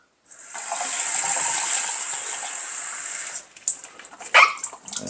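Water mixed with vinegar gushes out of an upturned Air Still Pro distiller for about three seconds, a steady splashing pour, followed by a few drips and clunks as the unit is handled.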